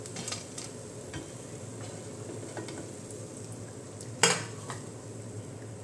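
Fried boondi being scooped from hot oil for a Kerala traditional ladoo, with a steady close sizzle and frying hiss, soft scraping stirs, and one sharp metallic clink of the ladle near the end; no voices.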